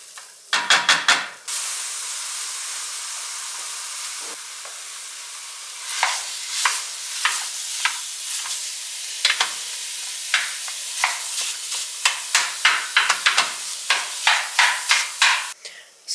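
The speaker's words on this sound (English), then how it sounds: "I am softening up these onions, and I'm about to put the beef in" Onions and beef sizzle in a pan with a steady frying hiss, broken by a run of sharp spatula scrapes and clacks as the mixture is stirred up close.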